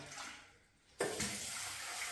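Tap water starts abruptly and runs in a steady splashing stream over soaked cowpeas being washed, after a quiet moment with faint rustling.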